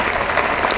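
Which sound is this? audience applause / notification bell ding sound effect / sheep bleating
audience applause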